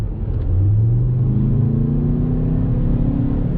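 A 2019 Škoda Kodiaq RS SUV in sport mode accelerates hard, its engine note rising steadily in pitch as a loud, continuous drone heard from inside the cabin.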